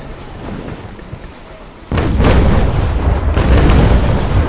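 A brig fires cannon shots in a naval battle game: a quiet sea ambience is broken by a loud boom, followed by a sustained rumbling roar of further shots and impacts, no voices.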